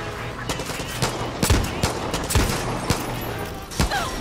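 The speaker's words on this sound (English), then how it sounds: "Oh, you're shooting at me." Bursts of gunfire from enemies firing at the player in Far Cry 6, sharp repeated shots and rattling volleys at irregular intervals, loud and close, with a voice talking in between.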